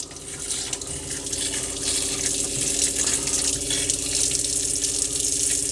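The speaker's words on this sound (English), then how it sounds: "So you can see the water coming through." Water gushing steadily from a motorhome tap into a basin, close by, with a faint pump hum underneath.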